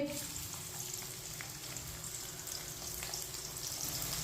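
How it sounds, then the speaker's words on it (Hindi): Sliced onions fry in hot ghee with a steady, dense sizzling hiss that holds evenly throughout, close and moderately quiet, without speech. "घी को मैंने गर्म कर लिया है। 2 बरीक कटे हुए प्याज को मैंने लंबे पीसों में कट किया है। ये देखें, प्याज डाल लेंगे।"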